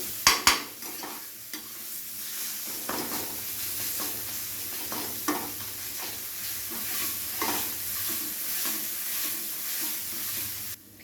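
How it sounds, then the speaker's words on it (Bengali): Garlic and spices cook in a pan for a dry spiced potato dish, with a constant soft sizzle under repeated scraping stirs and a few sharp utensil knocks near the start, no talking. "রসুনের কাঁচা গন্ধটা না যাওয়া অবধি কিন্তু একটু সময় নিয়ে এটাকে কষিয়ে নিতে হবে।"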